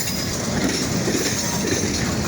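A freight train rolls slowly through a rail yard switch curve at night, a steady rumble with faint rhythmic wheel clatter, continuous and fairly close.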